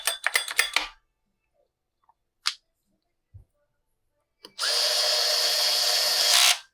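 A burst of rapid clicking and a couple of sharp clacks, then a power tool whirs loudly and steadily for about two seconds while bolting the starter back onto a Husqvarna 3120XP chainsaw.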